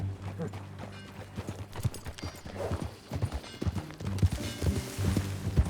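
Horse hooves clip-clop steadily in Red Dead Redemption 2, a close, rhythmic run of hoof beats with low thuds, going on throughout.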